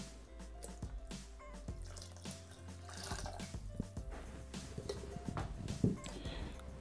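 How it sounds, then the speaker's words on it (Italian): Water is poured into a Thermomix TM6 bowl for pasta, a soft trickling and dribbling with light drips over faint kitchen clatter, quiet and close. "versiamo l'acqua."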